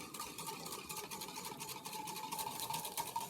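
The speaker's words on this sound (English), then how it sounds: "I'm going to take a whisk and just create a whirlpool" A whisk swirls water around a pot to make a whirlpool for poaching eggs, giving a continuous fast scraping, sloshing churn that stays steady and close throughout.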